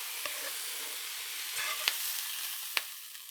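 Seared steaks sizzling in a hot pan for keto gyros: a soft, steady frying hiss with a few faint clicks and light scrapes, quiet and continuous with no voices.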